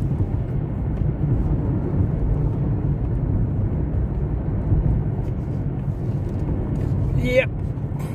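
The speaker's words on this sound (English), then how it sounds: "I can hear the wind." Steady low rushing wind roars through an open car window while driving, a continuous broadband whoosh that fills the cabin, with someone talking over it.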